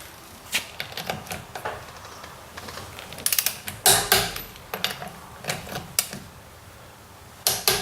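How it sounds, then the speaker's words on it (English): Torque wrench clicking and ratcheting as wheel nuts are tightened on a 2007 Ford KA, with a series of sharp mechanical clicks and taps at an irregular pace, close and fairly loud, bunched into louder clusters. "set this torque wrench to 100 Newton meters"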